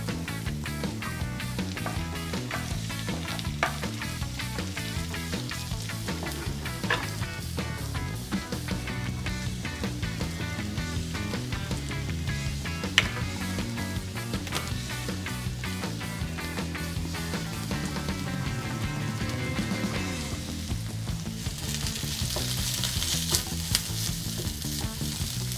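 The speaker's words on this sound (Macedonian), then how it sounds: "Додека чекаме зеленчукот да се пропржи" Vegetables with cabbage and green beans frying in a pan, a continuous close sizzle with occasional stirring knocks, steady throughout and without talk.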